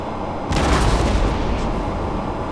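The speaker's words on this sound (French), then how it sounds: "C'est comme ça qu'on tire au canon." Cannon fire in the Napoleonic battle game Napoleon: Total War, a loud booming blast with a rumbling tail that rolls on under the ongoing battle din.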